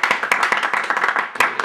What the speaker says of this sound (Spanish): Un aplauso a Lente.